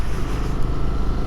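A Honda CB300R motorcycle on a test ride, its engine a steady, loud, close rumble with no break.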